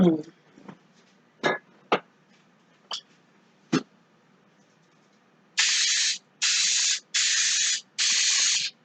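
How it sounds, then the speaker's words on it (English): Several long bursts of hissing cooking spray onto paper, evenly spaced, follow a stretch of scattered short taps and clicks at close range. "Have you ever heard of spraying the paper?"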